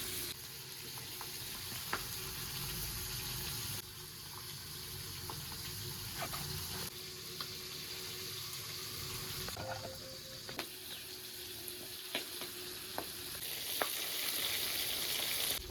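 Pabda fish frying in hot oil, a steady hiss of sizzling running throughout with a few sharp pops and crackles scattered across it, close and moderately loud, no voices.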